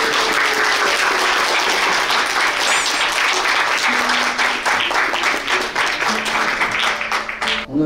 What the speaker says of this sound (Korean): 다 같이 큰 박수 부탁드립니다